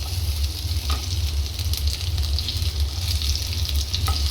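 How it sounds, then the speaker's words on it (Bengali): Garlic sizzles and fries steadily in hot oil in a pan for a dhaba-style egg tadka, a continuous close crackle with a few soft stirring scrapes and no talking. "এবার আমি এতে সবার ফার্স্টে আগে দেবো রসুনটা, কেন রসুনটাকে ভালো করে ভাজতে হবে।"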